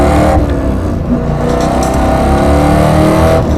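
A race car on a racing lap during a One Lap of America event, its loud engine roaring and revving close up from inside, with a sustained harsh drone that dips briefly and then surges again.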